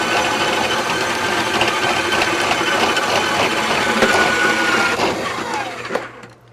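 A RIDGID K3800 drum machine spins its drain cable while clearing a floor drain, a loud continuous whirring motor grind that runs steadily, then winds down abruptly with a final clunk at the end.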